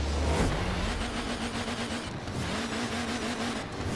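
Cars rev at a nighttime street race in the video game Forza Horizon 4, a steady engine drone with rising and falling pitch that stays loud and continuous throughout.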